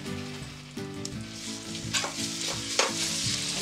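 Garlic dropped into a hot pan of oil for a sofrito, a loud continuous sizzle with stirring scrapes and a few sharp crackles, with a low tonal hum running underneath, no voices.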